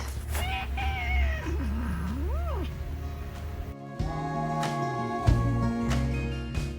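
A cat lets out a long, wavering meow near the start, outside an old house in a mountain village in Lumshory, followed by a background of music with no further meows.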